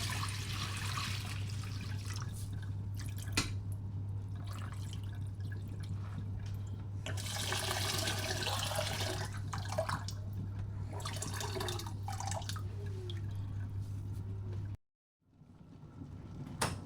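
Hot water poured and dripping while rinsing goat meat to remove its oil, a constant trickle with scattered drips and splashes over a low steady hum, close and fairly quiet, cutting off near the end.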